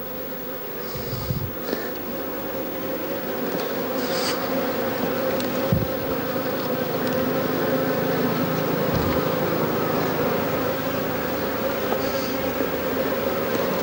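Honeybees buzz steadily around an open hive, a dense continuous hum close by with a few brief louder passes of individual bees, no voices.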